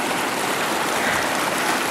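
Fast-flowing floodwater rushes through a desert town at dawn, a loud, continuous broadband roar of moving water with no talking.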